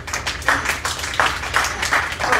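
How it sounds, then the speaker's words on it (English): Loud applause from an audience at a local author event, a dense wash of many hands clapping with several swelling bursts, close and continuous with no talking. "But that was a nice loud clap."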